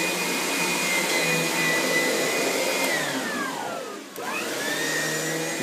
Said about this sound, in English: Some vacuuming.